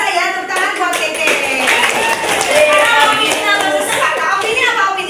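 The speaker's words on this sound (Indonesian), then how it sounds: "Luar biasa ya, tepuk tangan buat Keke" Pupils in a sixth-grade primary school classroom applaud a classmate with a burst of close, lively hand clapping that keeps going for several seconds, mixed with children's voices.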